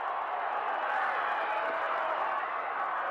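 Large arena crowd at Madison Square Garden roaring steadily through the eighth round of the Sugar Ray Robinson vs Gene Fullmer boxing bout, a dense, continuous wash of cheering and voices with no pauses.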